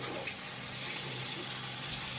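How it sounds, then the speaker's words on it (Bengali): Water pouring into cooking mutton beresta gravy in a pot, a faint, steady watery rush with a low bubbling undertone throughout, no talk. "সিদ্ধ হয়ে গেছে, এবার জল দিয়ে দেব।"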